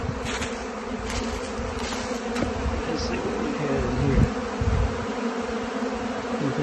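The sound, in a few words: honey bees robbing out old frames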